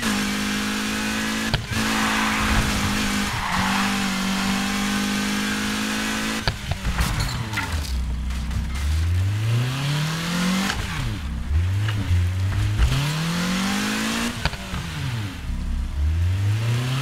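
In Need for Speed Heat, a new car's engine holds a steady drone, then repeatedly revs up and drops in rising sweeps, with tire squeals between bursts, loud and close throughout.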